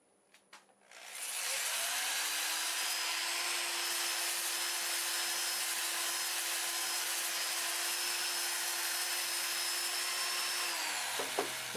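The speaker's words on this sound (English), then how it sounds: "I'll get a mask on and I'll do a little sanding" Steady, continuous sanding on a turned pear wood bowl from a lightning-struck pear tree, a loud close rasp that runs unbroken for about ten seconds with no talking, then stops.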